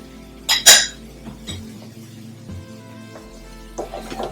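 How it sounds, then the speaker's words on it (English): Dried shrimps are tipped into a pan of pork and mushrooms on a home stove, giving a couple of sharp clinks and metallic scrapes of utensil on cookware over a low steady hum, with faint sizzling. "Add the dry shrimps."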